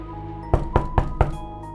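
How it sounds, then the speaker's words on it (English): Four firm knocks on a door in a quick, evenly spaced row, loud and close, over a low steady hum. "Then there was a knock at the door."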